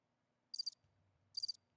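A cricket chirping sound effect, two crisp bursts of rapid high trills separated by a short pause, with a faint low rumble between them and a sharp click at the end.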